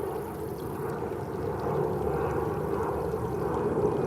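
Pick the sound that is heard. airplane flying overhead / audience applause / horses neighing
airplane flying overhead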